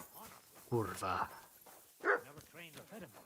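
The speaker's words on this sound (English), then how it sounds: "Barking." Dog barking in a video game, a couple of short, loud barks and yelps at close range, mixed in with someone talking.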